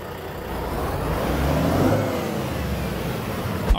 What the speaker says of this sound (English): I'll fire this thing up so you can listen to the engine in this.